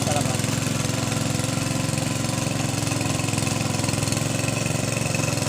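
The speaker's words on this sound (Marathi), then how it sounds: "ट्रॅक्टर चालवायला घेतला आहे" A tractor engine used for puddling a wet field runs steadily at a low, rhythmic chug, loud and close without pause, with a voice faintly under it.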